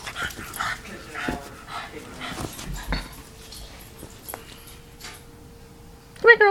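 Dogs playing tug with a toy, breaking into whimpers and high yips over steady low growly scuffling, with a sharper burst of yipping at the very end; people talk nearby at times.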